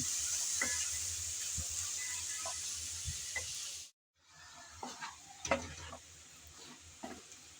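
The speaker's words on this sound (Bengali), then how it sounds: "আমি কিছুক্ষণ পর এসে আলু আবার একটু নেড়ে চেড়ে মিশিয়ে নিচ্ছি" Potatoes frying in a pan give a constant hissing sizzle, broken by a brief pause, then resume with clinks and scrapes of a spatula stirring against the pan, close by and without speech.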